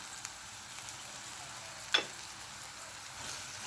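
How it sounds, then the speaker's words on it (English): Curry jackfruit frying in a pan with a steady, soft sizzle throughout, quiet and even, with a single brief clink of a utensil near the middle. "So we're just gonna let this fry for about 5 minutes."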